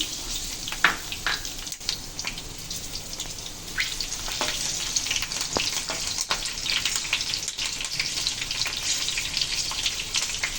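Green chilies dropped straight into hot oil crackle and spit in a busy, continuous fry, with sharp pops scattered over a steady sizzle close by and no voices.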